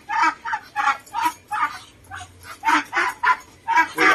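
Muscovy duck being handled, giving a run of repeated hoarse honking calls in quick bursts, close and fairly loud, with a short pause midway.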